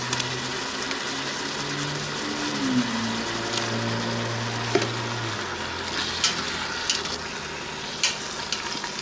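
Ground beef and cubes brown in an Instant Pot for chili, giving a steady loud sizzle with scattered scrapes and knocks from stirring close up.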